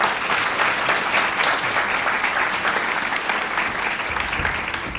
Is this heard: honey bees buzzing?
no